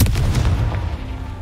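Deep booming blasts of the Confringo explosion spell in Hogwarts Legacy, loud and close, with a heavy low rumble that decays over about a second.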